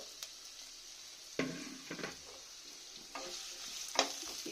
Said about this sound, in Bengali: আমি একটু ভালো করে লাল লাল করে ভেজে নেব।